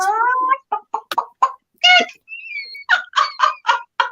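Chickens cluck and squawk close by in a run of short, sharp calls with brief pauses between, loud and distinct against a quiet background.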